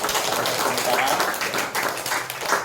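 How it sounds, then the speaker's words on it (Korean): A church congregation claps in welcome for two visiting families during a Sunday worship service, a dense, continuous wash of applause from a roomful of people, with voices mixed in. "우리 환영의 박수 하겠습니다."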